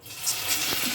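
Corn vadai frying in hot oil, a steady close sizzle and hiss with faint bubbling throughout, no voices.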